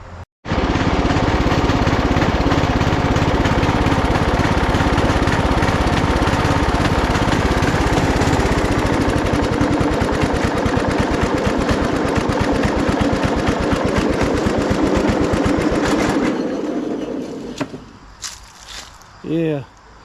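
A used lawn tractor engine runs loud and steady while mowing for most of the stretch, then cuts out, leaving a few faint clanks and rattles.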